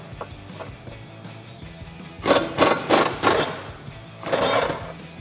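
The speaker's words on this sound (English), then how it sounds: "Now this is a 21 millimeter socket on our impact gun" A pneumatic impact gun with a 21 mm socket removes a subframe bolt on a 2015-2019 Mustang, firing several loud, rattling bursts in a row and then one more sustained burst after faint clicks.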